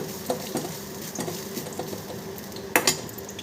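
A coconut mixture is stirred into cooked rice in a pan, with a spoon scraping and tapping against the metal in an irregular close-up patter and a sharper clink near the end.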